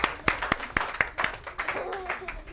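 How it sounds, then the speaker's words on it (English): A live audience at a televised school show gives a round of applause, starting with a few sharp, spaced claps that quickly merge into quieter, scattered clapping as voices rise underneath. "Give yourselves a round of applause."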